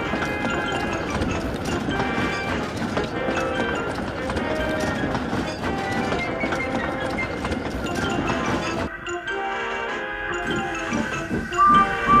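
In the Trainz railway simulator, a train pulls away after the guard's whistle, a dense rhythmic rumble of wheels and engine running steadily before cutting abruptly to a thinner, quieter sound near the end.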